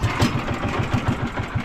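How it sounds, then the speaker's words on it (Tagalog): A small fishing boat's engine running close by, a steady rapid chugging pulse at idle-like speed, loud and alone without voices. "Lungon mo yung makina mo."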